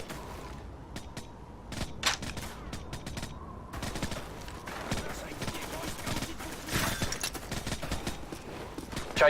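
Gunfire in Call of Duty Modern Warfare 4, with sharp rapid bursts and single shots cracking in an uneven pattern and thickening into heavier firing partway through, while voices talk over it.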